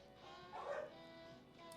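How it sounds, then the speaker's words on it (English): Puppies yip and whimper faintly in the distance, a short burst of small barking that rises briefly and fades against a quiet indoor background. "I hear doggos."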